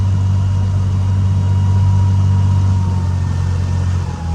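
The engine of a 1964 Amphicar 770 running while being put in gear: a loud, close, steady low rumble that holds evenly and eases off slightly at the very end.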